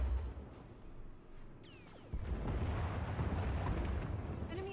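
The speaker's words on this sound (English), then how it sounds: "Enemy is firing. Turbo lasers, missiles, and what looks like transport pods." Starship turbolasers and missiles fire during a space battle in Star Wars: The Old Republic, heard as rumbling booms and blasts that swell into a dense, sustained barrage.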